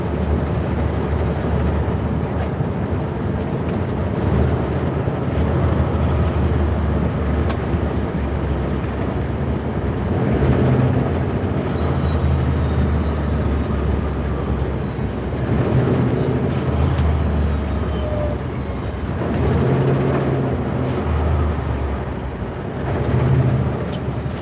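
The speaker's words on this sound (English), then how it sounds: "Engine brake set to full so the truck can use all the engine brakes if it wants to" A truck rolling along a road near Kamloops with its engine brake set to full, a steady mechanical roar with a hiss of air brakes, heard loud and continuous from close by.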